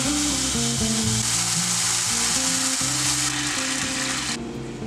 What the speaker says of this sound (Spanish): Llevaremos la salsa a guisar a una cacerola con poquito aceite bien caliente y previamente colado.